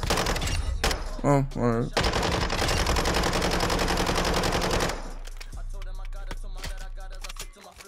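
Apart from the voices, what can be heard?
RPK gunfire emptying the clip in video game Modern Warfare II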